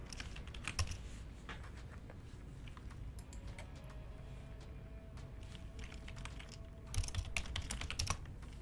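Rapid computer keyboard typing runs throughout, close and fairly loud, with bursts of quick key clicks that thicken near the end and no speech over it.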